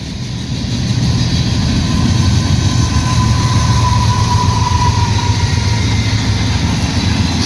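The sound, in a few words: CSX freight train passing, with distributed power unit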